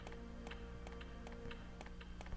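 A grandfather clock in the PS1 game Resident Evil: Director's Cut ticks in a steady, even rhythm, roughly a dozen crisp ticks over a low background hum, quiet and alone.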